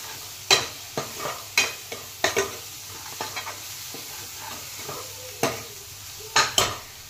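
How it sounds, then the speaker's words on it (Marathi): Red chili powder, masala and turmeric being sautéed in oil in a pan, a soft continuous sizzle broken by repeated close scraping and stirring clinks of a spoon against the pan, no talking. "याला व्यवस्थित परतून घेते आता।"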